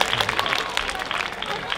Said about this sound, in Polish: Brawa dla Basi